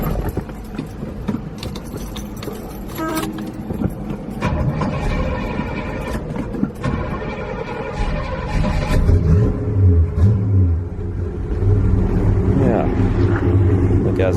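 A 1969 Pontiac LeMans engine cranks and catches, then settles into a steady, throaty idle with low rumbling.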